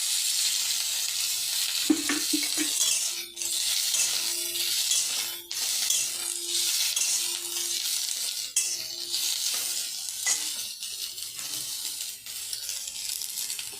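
Bitter gourd pieces frying in a little oil give a continuous close sizzle, with occasional stirring scrapes and soft tonal hums in the background.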